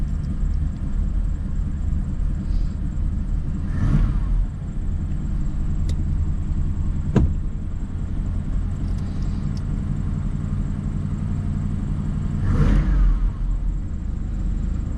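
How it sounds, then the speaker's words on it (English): Big White, a truck, restarts and settles into a steady, loud idle, its deep low engine rumble continuous throughout with a couple of brief surges in the mid-range. "Kick her off and see how she refires"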